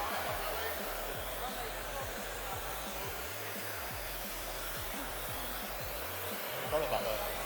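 A hair dryer blow-drying hair during a live hairdressing show, running as a steady loud whoosh with a low motor hum that dips and swells as the airflow shifts, nearly continuous throughout.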